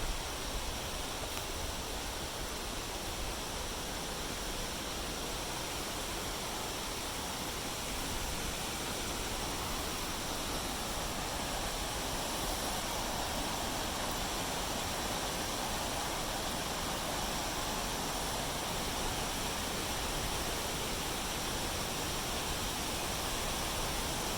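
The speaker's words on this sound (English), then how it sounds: "The trail is cut into a steep slope here, with the creek flowing along far below you" A creek rushes far below a steep forest trail near Kentucky Falls in Oregon, giving a steady, even roar of flowing water that holds unchanged for the whole stretch, with no voices.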